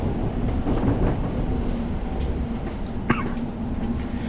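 Class 378 electric train arriving at a London station, a steady rumbling roll with a brief sharp squeal near the end, close and continuous.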